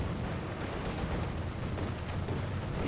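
A divisional field gun fires in the strategy game Company of Heroes 2 amid a dense wash of battlefield rumble, the shots blurred into continuous low booming and crackle.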